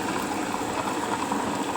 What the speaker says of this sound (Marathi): पाणी आपण अंदाजच टाकायचं आहे